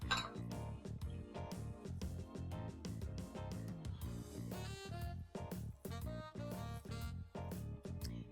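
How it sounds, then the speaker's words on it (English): A spoon clinks and scrapes against a bowl while mutton kofta mixture with cashew nut powder, salt and a cracked egg is stirred, giving steady repeated clinks throughout. "now we're just going to crack an egg in this. Mix this really well."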